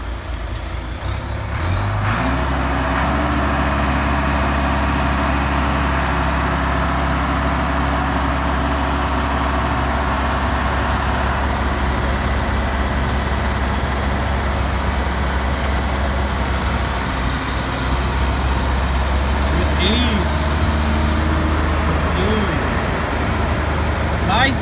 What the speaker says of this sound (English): Tractor versus Mack truck.